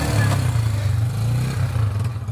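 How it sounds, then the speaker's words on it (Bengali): A motorcycle is ridden along a road, its steady low engine drone close and continuous with slight pitch wobbles and a brief dip midway, with wind noise and faint background voices. "আমাদের মহারাজ মোটর সাইকেল চালাচ্ছেন"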